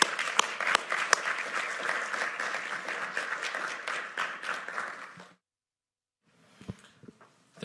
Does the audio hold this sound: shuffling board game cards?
no